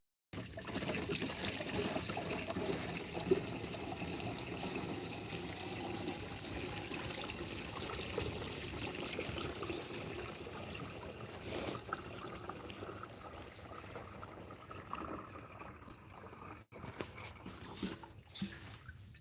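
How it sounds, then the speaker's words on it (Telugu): Water is poured into a tank in a steady trickling splash that runs for most of the clip, fairly faint, with a brief bump and a short break near the end. "అయితే నీళ్లు పోసేసుకుంటున్నాం ట్యాంకీ"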